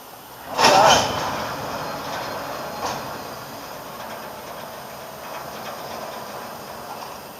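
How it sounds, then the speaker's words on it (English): Air hisses from the brakes of a Norfolk Southern freight train in Greenville, South Carolina, a sharp close burst that trails off into a softer lingering hiss over faint background rumble. "I hear the air hiss."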